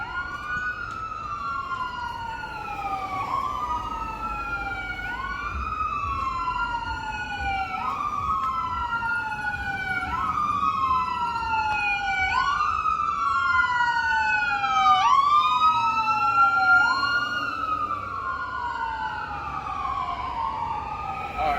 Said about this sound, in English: a lot of ambulances be coming through here